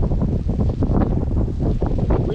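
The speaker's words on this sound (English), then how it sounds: "Wind is picking up a bit now." Wind gusting steadily outdoors by the sea near Souter Lighthouse during a fishing session, a broad continuous rush with buffeting against the microphone and no talk.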